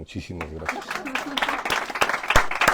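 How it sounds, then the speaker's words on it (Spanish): Applause for Antonio at a book presentation, scattered claps rising beneath a man's thank-you, becoming sharper and more distinct as the speech ends. "les pido por favor un aplauso para Antonio"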